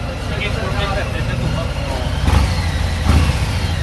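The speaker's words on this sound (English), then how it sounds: "listen to the sound of that engine." A motorcycle engine runs nearby at the 2018 Bacolod Masskara Unity Ride, with a throaty rumble, revving briefly twice near the end while voices talk faintly underneath.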